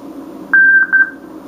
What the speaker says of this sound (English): You'll hear a code signal,